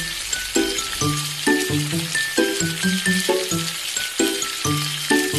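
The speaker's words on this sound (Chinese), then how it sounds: "这豆腐呀，煎成焦黄就可以翻面了。" Tofu frying in a pan until golden hisses with a steady, dense sizzle, heard underneath a melodic music track that plays throughout.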